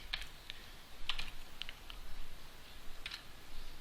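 Close, quiet taps on a computer keyboard while HTML and CSS code is typed, arriving in short irregular clusters over faint background hiss, with no talking.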